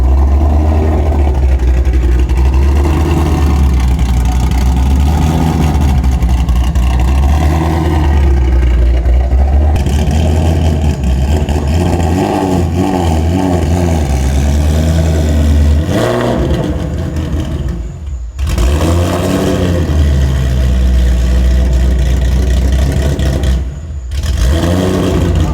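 A Shelby GT350 engine fitted with aftermarket cams idles roughly around 1,000 RPM, loud and close, with an uneven loping pulse that wavers and fails to hold steady revs, plus a few brief dips.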